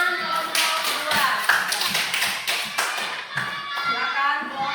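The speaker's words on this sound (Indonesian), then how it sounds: "tepuk tangan kelompok 2" A classroom applauds a student group, a burst of sharp, uneven clapping from many hands close by, with a few young voices mixed in.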